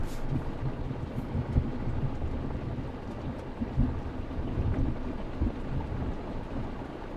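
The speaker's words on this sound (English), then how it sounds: "I wanted to defer to the thunder there." A low, rolling rumble of thunder with heavy rain hissing steadily throughout, no voices present.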